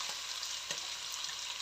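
Onions, carrots and meat for homemade pilaf frying in a pan: a soft, steady sizzle with faint crackles and a light stirring clatter, quiet and close-up.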